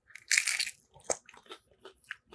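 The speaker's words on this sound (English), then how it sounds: "I like how crunchy it is too." Crunchy eel taco being bitten: a loud crisp crunch followed by a series of smaller crackling chews, close and without talking.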